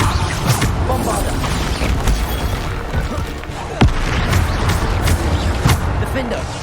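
Bombarda explosion spells in the Hogwarts Legacy video game: a loud, continuous rumble of blasts with a few sharp booms, mixed with busy game effects and voice-like sounds.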